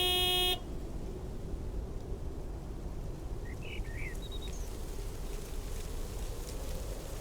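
A big white wobbly truck in the video game Lake gives one short horn toot at the start, then a steady engine and road rumble continues alone with faint chirps.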